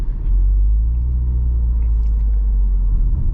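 A 2022 Subaru WRX GT with the CVT Performance transmission pulling away in comfort mode and holding just over 1,000 RPM: a steady, deep, loud engine rumble heard from inside the cabin, without speech.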